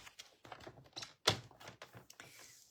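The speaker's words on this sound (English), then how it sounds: "So we'll cut that strip" A paper trimmer slices a strip of designer paper in a quiet room, with light tapping and handling clicks around one sharp, close cutting thunk at the middle.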